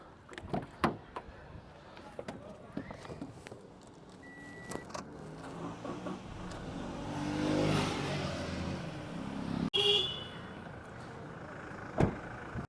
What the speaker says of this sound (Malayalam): ഞാൻ ജസ്റ്റ് വണ്ടി ഒന്ന് സ്റ്റാർട്ടാക്കിയും കൂടെ കാണിക്കാം